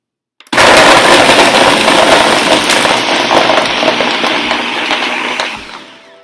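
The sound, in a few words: blender blending bananas for banana ice cream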